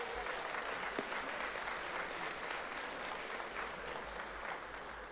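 An audience applauds steadily, a dense wash of clapping from many hands that holds for several seconds.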